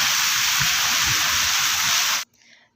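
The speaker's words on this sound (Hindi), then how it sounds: "और फिर बारिश को बरसते हुए भी देख रहे थे" Heavy rain pours down at a hill camp in Murree: a dense, steady hiss that fills the air for about two seconds, then cuts off abruptly into near silence.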